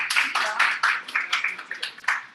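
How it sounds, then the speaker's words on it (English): An audience bursts into applause at an academic event, many hands clapping in a steady uneven patter close by, with some voices mixed in. "Please give a big round of applause for ma'am."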